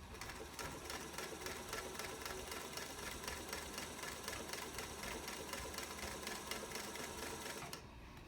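A 1947 Singer 221 Featherweight sewing machine, overhauled and fitted with a size 14 universal needle, stitches through two layers of denim in a steady, fast mechanical chatter that runs unbroken for about eight seconds, close and clear, before easing off at the end.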